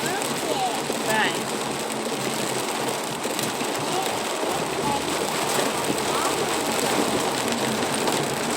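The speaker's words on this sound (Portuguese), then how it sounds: "Olha só a chuva em Capivari." Heavy rain falls in Capivari, São Paulo, a dense continuous wash of drops drumming on surfaces, loud and steady throughout with faint background noises.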